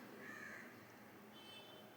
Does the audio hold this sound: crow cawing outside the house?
yes